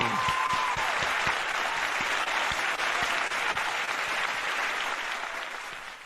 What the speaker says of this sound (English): please give another big round of applause to our regional president